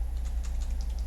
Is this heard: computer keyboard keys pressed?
yes